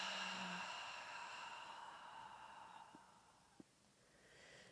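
A long, soft exhale during slow yoga breathing, a faint breathy hiss that fades gradually, close and quiet with no talking.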